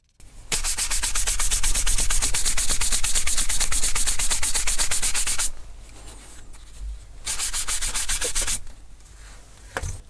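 Leather edge burnished with Tokenol and a 100% cotton rag or glove, a loud, fast, steady rubbing rasp for about five seconds, then a quieter pause and a second shorter burst of rubbing, no talk.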